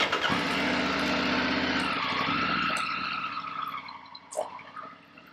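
A Triumph Tiger 900 GT Pro motorcycle engine in off-road mode runs steadily, then winds down, with a brief blip of throttle near the end.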